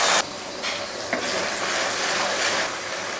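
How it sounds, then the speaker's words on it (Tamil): Ground onion hitting hot oil in a pan: a loud, steady broadband sizzle and hiss running throughout, with a few faint clinks, and no voices. "எண்ணெய் ஊற்றி எண்ணெய் காஞ்சிருச்சு. இப்போ அரைச்ச வெங்காயத்தை இதில் சேர்த்துடலாம்."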